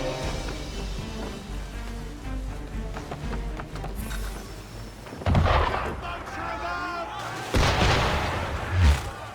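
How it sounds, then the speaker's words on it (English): An enemy ship fires its cannons in a naval encounter in Assassin's Creed III: two heavy booming blasts a few seconds apart, loud and close, above a steady wash of wind and sea ambience. "Why is he shooting at us?"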